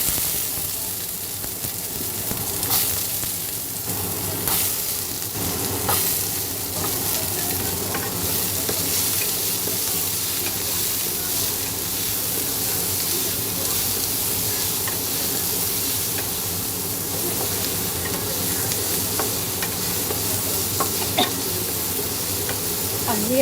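Garlic frying in cooking oil in a pan, a steady dense sizzle and hiss with occasional stirring scrapes, close and continuous throughout.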